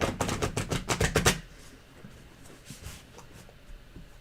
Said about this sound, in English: Why am I shuffling?